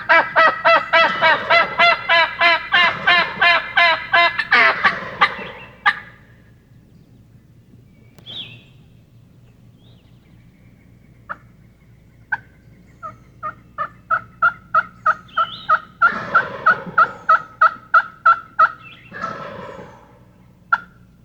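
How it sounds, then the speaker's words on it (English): Wild spring turkeys gobbling in a series of rapid, rattling bursts, a long loud run at first, then a pause with a lone call, followed by another building volley of repeated gobbles, outdoors with no talking. "of gobbling turkeys"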